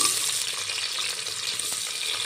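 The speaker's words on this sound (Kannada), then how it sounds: "ಈರುಳ್ಳಿ, ಕರಿಬೇವು ಅದನ್ನ ಸ್ವಲ್ಪ ಫ್ರೈ ಮಾಡಿಕೊಳ್ಳ್ರಿ." Onions and curry leaves frying in hot oil for chicken biryani, a steady bright sizzle with faint stirring, close and continuous throughout without any talk.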